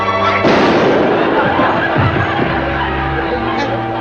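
Gunshot in a comedy TV show, a loud single bang early on followed by crowd laughter and chatter, with voices over the noisy, boomy old broadcast sound.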